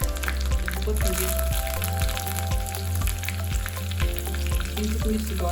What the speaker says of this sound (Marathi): याच्यावरती आपल्याला कढीपत्ता आणि मोहरीची फोडणी द्यायची.